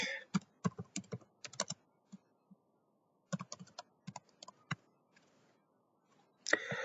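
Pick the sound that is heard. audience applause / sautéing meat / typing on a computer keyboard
typing on a computer keyboard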